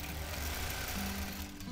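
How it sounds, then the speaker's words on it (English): A quilting sewing machine set to channel lock stitches a straight line along a quilt, giving a brief, continuous motor hum with a steady mechanical rattle close by. "And just go ahead and stitch down this side."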